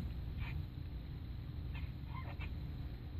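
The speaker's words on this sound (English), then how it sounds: "Fight this dragon chicken." A dragon chicken creature in the video game Deep Dungeons of Doom, giving a few short honking, fowl-like squawks over a steady low background hum.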